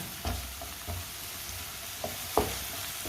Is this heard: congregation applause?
no